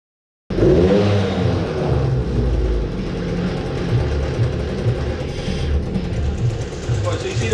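A Suzuki LT 50 quad engine idles on choke while warming up after its first start of the morning, a loud steady buzzing drone that kicks in abruptly and holds close to the microphone throughout.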